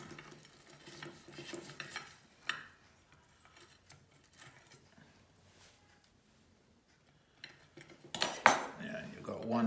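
A knife cuts through the top of a boiled egg in its shell: quiet scraping and tapping of cutlery, then louder clinks and clatter of metal against a dish toward the end.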